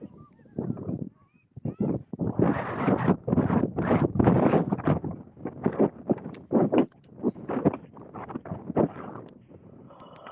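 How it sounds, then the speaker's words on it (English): Strong wind gusts buffet the microphone at an outdoor women's football match, loud irregular rumbling bursts of roar that come and go, with occasional faint voices. "I think there's strong wind."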